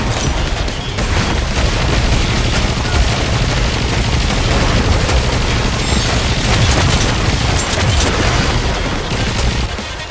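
Cannons fire in the mobile game Goddess of Victory: Nikke as a dense, loud, continuous barrage of booming blasts and rattling gunfire. The roar stays sustained without a break for about ten seconds.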